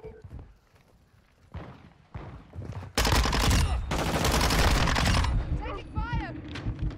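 Gunfire in Modern Warfare 2, a few scattered shots at first, then a loud, dense sustained burst of automatic fire lasting several seconds, with someone talking over the action.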